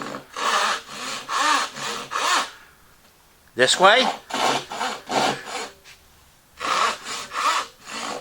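Hand saw strokes rasping through wood in several bursts, a pause, then more steady back-and-forth cutting, fairly close, with a brief spoken remark in between.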